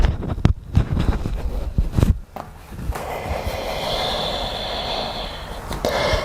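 Deep nasal inhales and exhales during a morning yoga flow warm-up, close and fairly loud, with sharp sniffing breaths early on giving way to a steadier, windy breathing sound.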